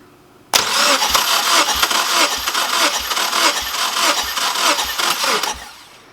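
A Subaru Forester engine cranks on the starter for about five seconds during a compression test, with fuel and spark disabled, spark plugs removed and one cylinder lacking compression, giving a loud, even rhythmic churn that stops abruptly.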